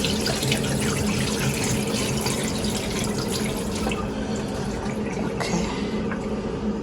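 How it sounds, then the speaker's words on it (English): Water being sieved out of blended popcorn pap (akamu/ogi), a steady close splashing and trickling of liquid pouring through a strainer, continuous throughout with no talking. "So I'll just sieve this water out."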